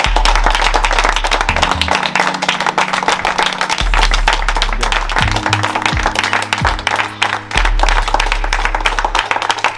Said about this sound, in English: We give them both, you know, a round of applause for the both of them.